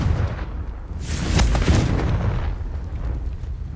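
A Confringo blasting spell explosion in Hogwarts Legacy: a sustained rumbling burst swells near the middle and stays loud, full and close throughout.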